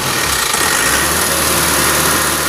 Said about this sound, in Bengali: দাও বাড়ি দাও অ্যাক্সেলেটার বাড়ি দাও জোরে জোরে জোরে